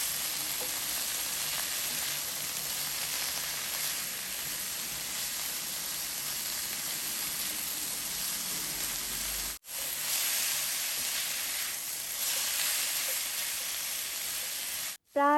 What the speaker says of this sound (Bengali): এখন আমি চুলার আঁচটা মিডিয়ামে রেখে কয়েক মিনিটের জন্য এই বাঁধাকপিটাকে নেড়ে ভেজে নিব